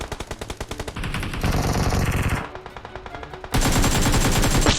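Rapid automatic gunfire from PUBG Mobile crackles in loud, dense bursts, with short rhythmic volleys at first and then sustained heavy firing that swells louder toward the end, alone without talk.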